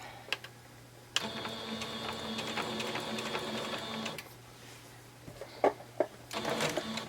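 A sewing machine stitches a pillowcase dress in a steady, rapid mechanical whir for about three seconds, then stops; a few clicks and handling sounds follow before a short second burst of stitching.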